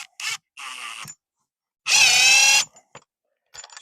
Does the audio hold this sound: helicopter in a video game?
no